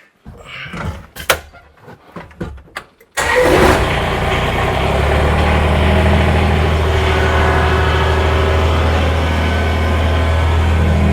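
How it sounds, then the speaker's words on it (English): A Kubota BX compact tractor cranks and starts after a few clicks and handling noises, then its engine runs steadily and loudly nearby as it moves forward. "I'll drive the tractor up on it"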